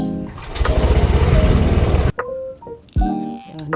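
A Honda Click scooter engine cranks and fires up, a loud buzzing two-second start, then cuts off into short revving bursts and brief idling, close by with no talking.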